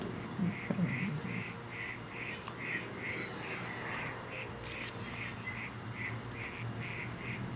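Ducks quacking in the video game New Pokemon Snap, a steady run of repeated short calls carrying through the whole stretch over a constant ambient background, with no talk.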